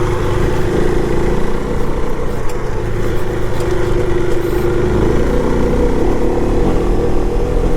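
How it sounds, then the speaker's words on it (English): A KTM 390 Adventure motorcycle engine runs steadily and loud climbing uphill, a dense continuous drone with a constant mid-pitched tone and slight rises as the throttle opens, no talking over it. "I just love the throttle response on this little bike"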